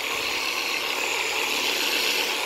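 Theragun G3 massage gun running at its second speed setting, an even, continuous motor drone with a bright high whine, close and unbroken.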